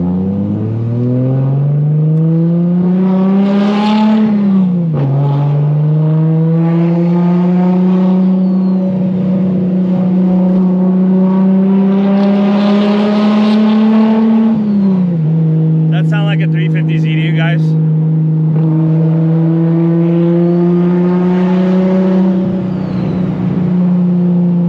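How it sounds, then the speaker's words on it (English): Nissan R34 GTR with an RB26 engine and a loud exhaust, a continuous close droning rumble that rises and dips with throttle changes and a couple of gear shifts, with a brief metallic rattle midway. "I'm embarrassed because the exhaust is too loud"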